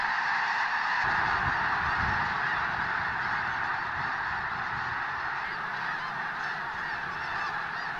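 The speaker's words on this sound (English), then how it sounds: "And even though this lake is almost entirely covered by snow geese," A huge flock of snow geese crowds a lake during migration, their dense, continuous honking and calling forming a loud, steady clamor that fills the scene without pause.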